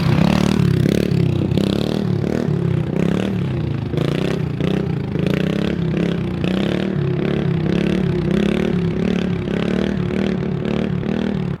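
A small mini pit bike engine revving hard during a wheelie, its buzzy note rising and falling in uneven surges, with scraping and clattering mixed in close to the mic.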